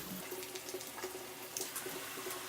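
Running water splashes while someone rinses their face at a sink, a steady close wash of flowing water with irregular splashes and no voices.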